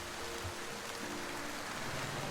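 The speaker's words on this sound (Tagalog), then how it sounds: "malakas na buhos ng ulan ang aming nadatnan" Heavy rain pours down on a market day where fish is sold, a steady, dense hiss of falling water with no voices.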